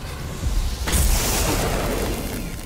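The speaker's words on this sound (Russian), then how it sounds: "Оу, меня пушка убила?" A cannon shot in the video game Dishonored 2 lands as a loud, close boom with a sharp burst around the one-second mark, followed by a long roaring, rumbling tail that stays loud to the end, with no talking.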